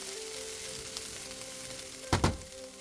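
Colored peppers and carrots fry together in a pan with a steady, close sizzle, broken near the end by a short louder burst as the vegetables are tossed or stirred.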